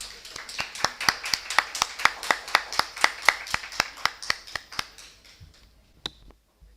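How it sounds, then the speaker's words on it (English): Slow, evenly spaced claps ring out in a conference hall at a medical congress morning session, about twenty distinct hand claps from a small group before they trail off into near silence. "A big round of applause, please."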